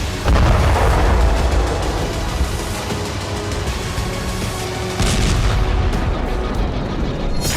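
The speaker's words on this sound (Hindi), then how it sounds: "खेरसोन के रेलवे स्टेशन पर जबरदस्त बमबारी की गई है" Heavy bombardment at the Kherson railway station: loud, sustained booming and rumbling blasts, with a renewed surge partway through and dense low roar throughout.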